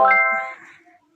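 A phone notification chime from the Akbank app sounds as one bright ding that rings out and fades within about a second.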